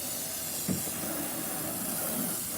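A steady, close hiss of a water spray rinsing lime-away cleaner off a car that had been sitting with black tree mold, continuous and even throughout with no talk.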